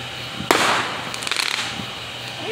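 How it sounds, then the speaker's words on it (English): Fireworks or firecrackers going off outdoors: a sharp bang followed by a rapid crackling burst of pops, then a quieter hiss over steady background noise. "today we're going to be watching fireworks."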